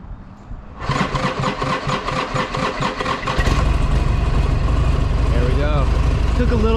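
A Buell motorcycle engine cranks and fires up, settling into a loud, steady idle as it warms up, with a slightly drained battery making the start take a moment; close and continuous throughout.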